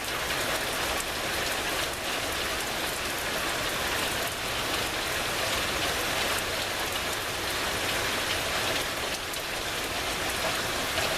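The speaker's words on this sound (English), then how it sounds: "Man, look at that rain come down, will you?" Heavy rain pours down outdoors in a loud, steady, dense hiss of drops hitting surfaces, unbroken for the whole stretch, with no voices over it.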